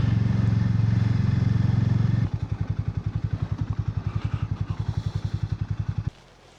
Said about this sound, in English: the Hero Hunk, the new motorcycle brought out for the UK market by Hero